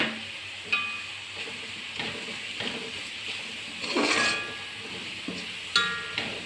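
Onions sizzle softly in a pan with occasional stirring scrapes, a steady low frying hiss throughout.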